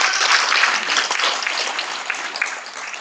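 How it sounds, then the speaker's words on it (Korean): A crowd at a launch ceremony in Gwangju, Gyeonggi Province applauds to welcome a speaker, a steady, moderately loud wash of clapping lasting about three seconds. "여러분 힘찬 박수로 맞이해주시기 바랍니다"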